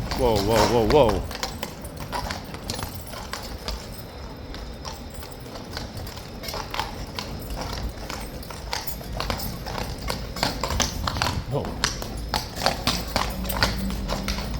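Horse hooves clop on hard ground in a busy, irregular rhythm at a guard post, fairly close, with a brief whinny at the start and some background noise.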